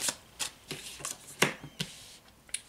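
Tarot cards shuffled and drawn close to the mic, a run of quick, crisp riffling flicks in irregular bursts, fairly quiet and with no talk over them.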